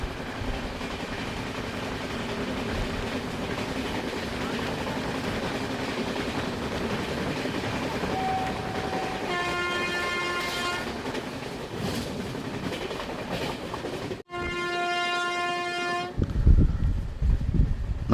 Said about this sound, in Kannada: ನಮ್ಮ ಟ್ರೈನ್ ಈಗ ಚಿಕ್ಕೋಡಿ ರೋಡ್ ರೈಲ್ವೆ ಸ್ಟೇಷನ್ನ ಸ್ಕಿಪ್ ಮಾಡ್ತೀವಿ